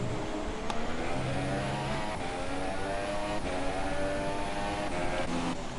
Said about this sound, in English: we will not be able to ride on board because of the revving